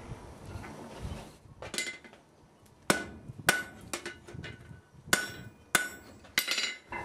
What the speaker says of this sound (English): I'm going to go to the anvil now and dress some of this excess material